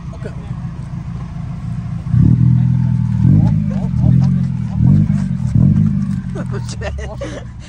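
A Mazda Miata in a video game revs repeatedly and loudly in short rising bursts over a steady engine drone. Loud voices talk over it.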